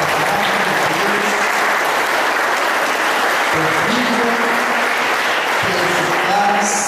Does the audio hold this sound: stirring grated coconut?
no